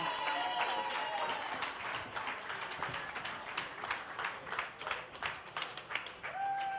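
Live audience applause at a political event in Des Moines, Iowa, a dense wash of clapping with some scattered cheers and whistles, sustained and fairly loud throughout.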